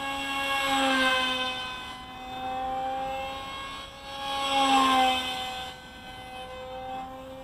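A radio-controlled F-22 pusher jet model flies past twice, its high, whining motor tone rising and falling as it approaches and recedes, moderately loud outdoors with no talk.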